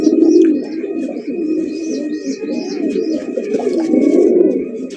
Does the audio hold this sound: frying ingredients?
no